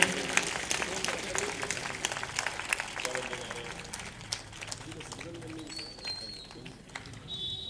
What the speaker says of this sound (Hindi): एक जोरदार तालियों से अभिनंदन करें।